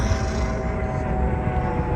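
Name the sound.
tour helicopter flying overhead in Las Vegas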